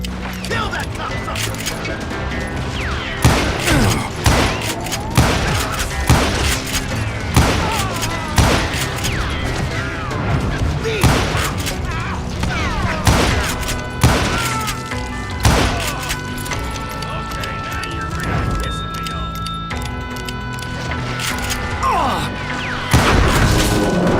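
Gunfire in the western shooter video game Call of Juarez, repeated sharp shots and heavy thuds spaced irregularly through the scene, with someone talking over the action.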